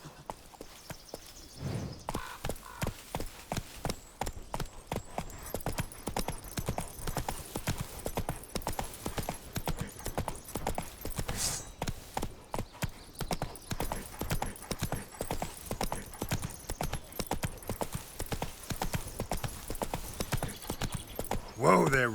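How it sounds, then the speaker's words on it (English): Horse hooves clip-clopping in a steady rapid rhythm as the horse gallops in The Witcher 3, loud and continuous throughout, with a brief whinny and a voice talking over it. "Whoa there, Roach"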